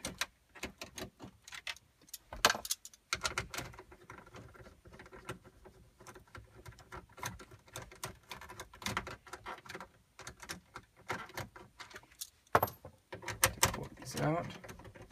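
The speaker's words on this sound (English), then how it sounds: "I'm just using a socket drive" A socket drive clicks and rattles steadily as it backs out screws from the dash stereo controls of a Chevy Tahoe/GMC-type truck, a dense close-up patter of quick ticks with a few sharper knocks.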